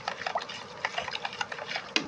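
Tap water trickles and splashes into a lemon and salt brine for pickling olives, with uneven gurgling patter and small bursts of filling and a sharper splash near the end, fairly close and moderately quiet.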